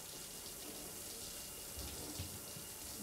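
Shower water running in the video game Death Stranding, a quiet, even hiss of spray that continues without a break and with no voices.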